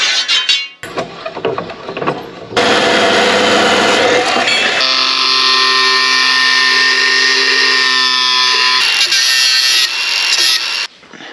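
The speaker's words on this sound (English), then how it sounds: "Grind him up, get it to suit." An angle grinder works on metal for a replacement bulkhead on a John Deere tractor, running loud and steady with a whining tone that shifts as it bites and eases off, with brief pauses at the start and end.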